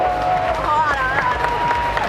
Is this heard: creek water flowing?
no